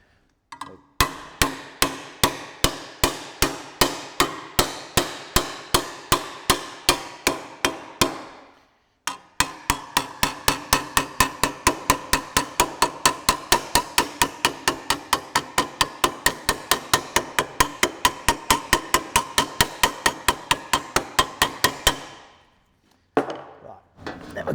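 Rapid, even hammer blows dimple a body panel on a Maserati Mistral under restoration, ringing sharply and close. A long run of strikes pauses briefly, then resumes in a second longer burst.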